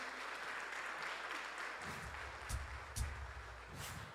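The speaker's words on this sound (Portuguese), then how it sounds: "Vamos aplaudir ao Senhor Jesus." A church congregation applauds after a Easter sermon, steady broadband clapping throughout with a few louder bursts near the end, no talk over it.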